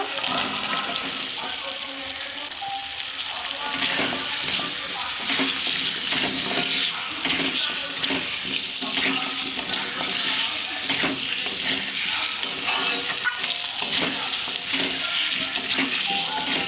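Spice masala with malabar spinach and potatoes sautéing in oil in a pan, a continuous loud sizzle with stirring scrapes throughout, no talking.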